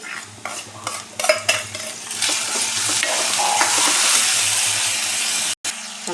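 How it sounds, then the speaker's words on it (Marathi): Moong dal tipped into salted onions frying in a pan for dry methi bhaji, with scraping stirring strokes over a strong, close sizzle that builds steadily, then a brief cut near the end. "त्याच्यामध्ये लगेच मुगाची डाळ टाकून घेऊया"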